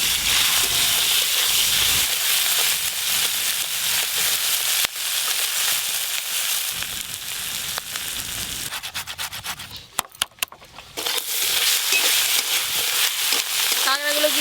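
Crabs fry and get stirred in a pan, giving a steady sizzle with scraping stir strokes that run throughout, briefly quieter near the middle.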